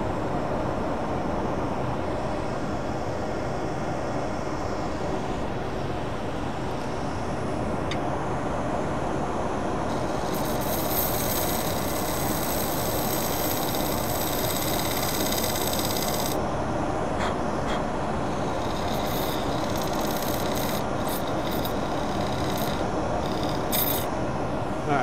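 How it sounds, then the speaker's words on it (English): A skew chisel cuts an Alumilite resin bowl spinning on a woodturning lathe. It makes a steady rough whirring rasp throughout, with a brighter, harsher scraping stretch in the middle. "I'm just going to come in with my skew chisel a little bit low there just to get this thing going"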